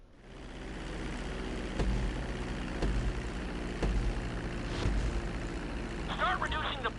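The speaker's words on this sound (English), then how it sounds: "Now let's get the plane off the runway." A plane taxiing on a runway in GTA 5 produces a steady low engine hum with periodic thumps. A voice speaks over it, and a brief tonal chirp sounds near the end.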